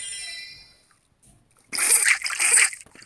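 Cartoonish water splashing and sloshing from rinsing a pet in the Tamagotchi video game, a bright burst lasting about a second after a quiet start of chiming game tones.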